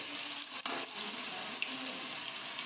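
Water runs steadily into a cooking pan of spiced palak chana dal for a few seconds, a continuous hiss with faint sizzling and a brief clatter near the start; no one speaks.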